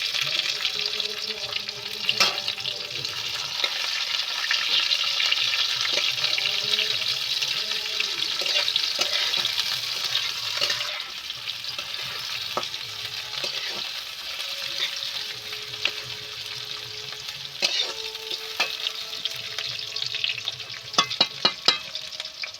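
Onion and garlic fry in oil in a pan and are stirred now and then, giving a steady close sizzle with scraping strokes and a few sharp clinks near the end. No one speaks.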